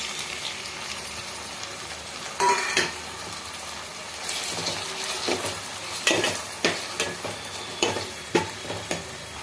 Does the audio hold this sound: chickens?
no